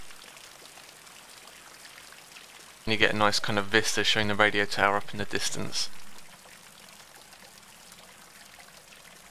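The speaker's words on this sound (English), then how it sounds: "some nice use of ambient sounds with the water" Ambient water trickling and flowing in a video game map with low fog and a distant radio tower, a soft continuous wash under someone talking in the middle.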